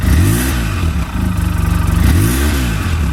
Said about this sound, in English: I'm going to rev it